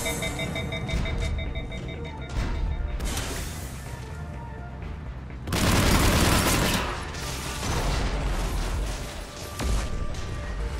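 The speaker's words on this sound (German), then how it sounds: "Ich liebe es, wenn diese Dinger explodieren." Mass Effect 3 gameplay with repeated explosions: a steady synthetic beeping runs underneath, broken by bursts of crashing blasts, the loudest a heavy roar near the middle, then further rumbling detonations.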